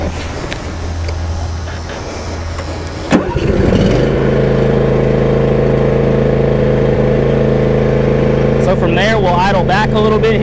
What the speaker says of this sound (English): I'm going to hop on, turn the mower on, let you hear how it sounds